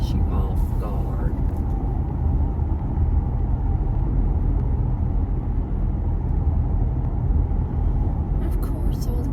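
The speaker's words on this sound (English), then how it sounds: "Of course, all the cars are stopping." Steady road traffic rumbles close by as cars drive and slow to a stop, a continuous low engine and tyre drone under a person speaking.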